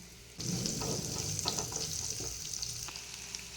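Sliced onions hit hot coconut oil with fennel, cinnamon, cardamom and cloves, and the sizzle jumps up suddenly, then keeps crackling steadily, with soft stirring scrapes and no talk.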